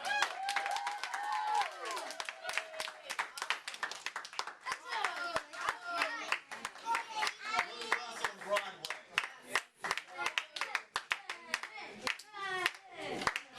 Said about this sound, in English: final round of applause for these guys